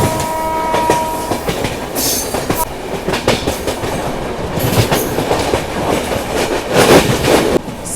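Inside a third AC coach of the Sealdah–New Delhi Rajdhani Express after leaving Ghaziabad Junction, a continuous rumbling roll carries rhythmic clickety-clack wheel beats, brief squeals and a distant horn, steady and loud throughout.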